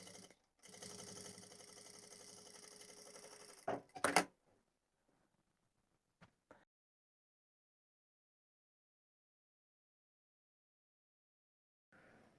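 Sewing machine edge-stitching a pom pom hat, a steady close whir for about three seconds, then a few clunks and brief handling noises before near silence.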